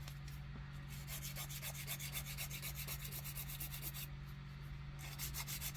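Coarse-grit nail file rubbed rapidly back and forth across fingernails with gel, a fast rhythmic rasping scratch, close and steady over a low constant hum.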